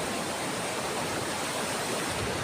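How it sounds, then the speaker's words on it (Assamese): Big sea waves at Juhu beach, Mumbai, give a steady, dense roar of surf that fills the whole stretch without letup. No voices are heard. "হাইটো চোৱাচোন কিমান ডাঙৰ ঢৌ আহিছে"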